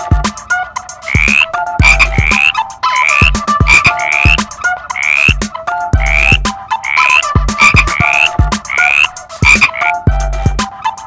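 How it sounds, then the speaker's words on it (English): Frog croaking in a steady, repeating rhythm, each call a loud rasping brr with rising chirps, several calls close together over the whole stretch with no talk. "A frog makes a brr sound."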